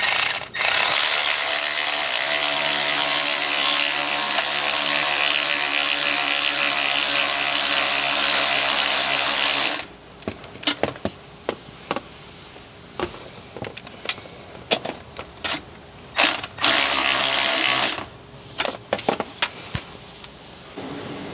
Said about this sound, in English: now we can tighten the lower T-bolt clamp at the intercooler